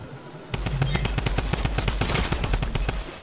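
Rapid automatic gunfire in the video game Fortnite, a fast steady burst of sharp shots that starts abruptly and runs continuously for a few seconds, loud and close.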